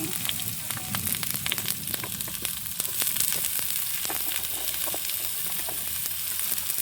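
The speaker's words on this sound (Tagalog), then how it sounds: "Lagay na natin yung laurel, tapos ilagay na natin itong takway." Bay leaf and kangkong stems sizzle steadily in a frying pan, a dense continuous crackle with scattered sharp pops, close and fairly loud, with no talk over it.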